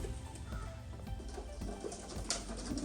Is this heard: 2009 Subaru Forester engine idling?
no